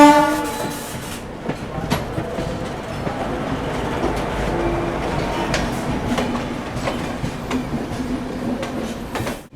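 The Tejas Rajdhani Express rolls slowly through Mokama Junction station, with steady wheel clatter and rail rumble heard from inside a 2nd AC coach and a sustained horn sounding near the start.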